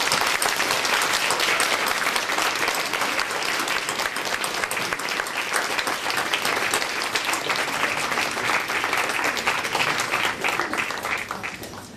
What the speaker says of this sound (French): j'aimerais que vous leviez déjà pour nous et que vous l'applaudissiez